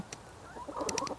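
Soft cooing and clucking from dual-purpose chickens in a backyard coop, a few faint low murmured calls with short higher chirps, close but quiet.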